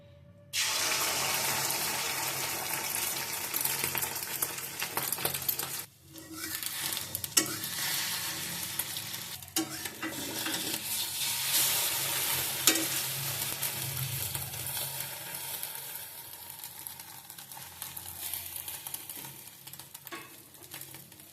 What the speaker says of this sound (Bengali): মোটামুটি ডিম ভাজা শেষ ভালো একটা কালারও আসছে